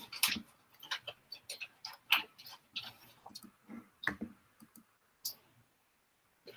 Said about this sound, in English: My husband's eating pistachios right now.